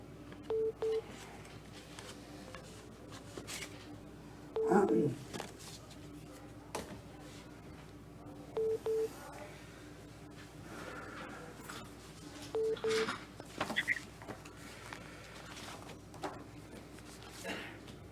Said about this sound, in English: So we're trying to get Eric on the phone, eh?